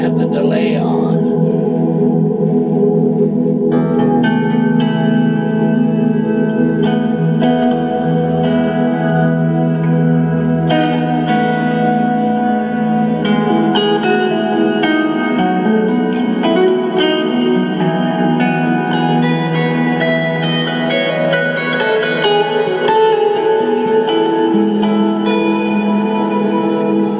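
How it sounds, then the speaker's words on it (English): An electric guitar played through a tube amp head with delay switched on, sustained chords and notes ringing with repeating echoes and a reverberant tail, loud and continuous without speech. "Oops, I have the delay on."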